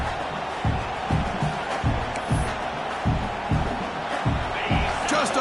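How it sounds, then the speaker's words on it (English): A home crowd in a Madden football video game keeps up a constant roar, broken by rhythmic thumps and occasional whoops. A commentator's voice runs beneath it. "this home crowd is fired up and ready to make a difference today"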